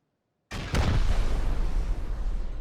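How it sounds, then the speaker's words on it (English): Rocket explosions hammer high-quality metal base walls during a raid in the video game Rust: after a moment of silence, a sudden heavy blast erupts into a sustained, loud rumbling roar of debris and fire. "we pretty much just pummel through the HQM walls with rockets"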